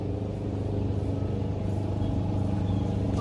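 A small four-wheeler ATV rolls toward the listener in Van Cortlandt Park, its steady low engine rumble holding throughout without any talk.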